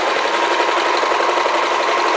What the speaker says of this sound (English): there's some little teeth underneath your foot that are pulling the fabric forward as you stitch